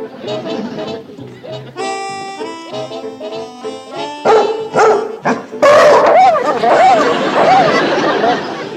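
A man imitates a dog's bark with voiced woofs and yips, several short bursts followed by a longer string of howling, whimpering yelps, loud and close, with other voices chattering in between.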